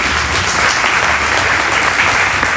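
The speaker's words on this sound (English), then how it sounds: "join me to encourage Marge as she comes to speak about her mom with a round of applause" Loud, dense applause from mourners at a family eulogy gathering, a steady wash of many hands clapping close by without a break.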